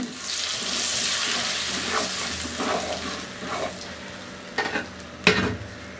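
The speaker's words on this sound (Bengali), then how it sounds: "ডিমগুলাকে তেলের মধ্যে হলুদ দিয়ে ভাজলে কালারটা খুব ভালো হয়।" Six boiled eggs fry in hot mustard oil with turmeric and salt, a continuous close sizzle with a few sharp clinks of a spatula toward the end.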